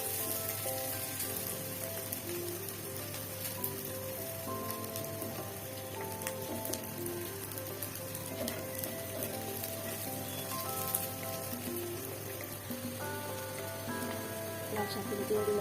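Garlic, onion and green chilli frying in oil in a home kitchen: a steady, even sizzle that runs the whole time under a bed of background music.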